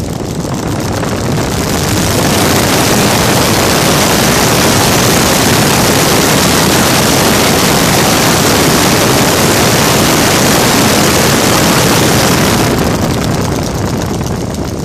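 Evolution 7-77 model aircraft engine converted to run on gasoline with CDI ignition, turning a big propeller at around 4200 RPM: a loud, constant roaring buzz held close for the whole stretch, alone.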